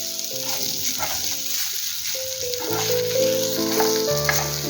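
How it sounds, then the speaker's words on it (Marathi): Karli fish shallow-frying in a pan until crisp on both sides gives off a steady, bright sizzle of hot oil, running throughout with a low tonal hum beneath it. "दोन्ही बाजूने छान अशी खरपूस भाजून घ्यायची"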